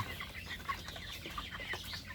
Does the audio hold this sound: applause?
no